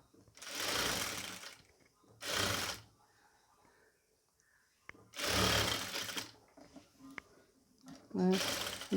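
A sewing machine stitches the back piece of a round-yoke pleated nighty in loud whirring bursts, several runs separated by pauses, with a voice talking between them.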